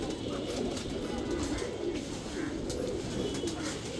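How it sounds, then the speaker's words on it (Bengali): Jalali pigeons coo softly and repeatedly in a low, rolling murmur, several birds overlapping at close range with faint background rustle. "অল্প কিছু কবুতর আছে আপনাদেরকে দেখাই কবুতরগুলো তাদেরকে কীভাবে খাবার দিই"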